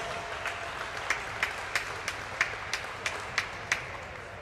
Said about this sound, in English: So a big round of applause for the two teams that are here in front of us.